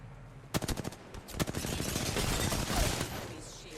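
Gunfire in the Apex Legends video game: a few sharp separate shots, then a dense sustained burst of rapid fire, loud and close.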